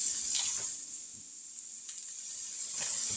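Jimmy Dean regular sausage frying in a pan, a steady soft sizzle with faint scraping stirs now and then, quiet and close with no talking.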